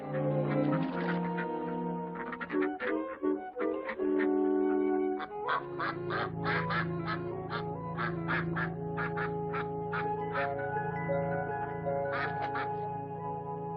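Ducks on a duck pond quack loudly and repeatedly, several birds overlapping in quick, nasal calls that carry on for the whole stretch.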